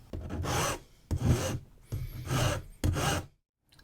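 A file rasps between the teeth of a comb to clear away burrs, in four short, close scraping strokes with brief pauses between them.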